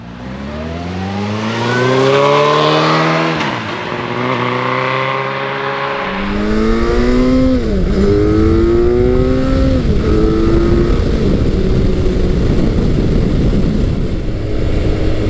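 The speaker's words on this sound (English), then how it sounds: "I'm currently riding Suzuki's iconic Hayabusa 1300" A 1999–2007 first-generation Suzuki Hayabusa 1300 motorcycle is ridden hard, its engine rising through the revs with clear gear shifts before settling into a loud, steady roar with heavy wind rush, close and continuous.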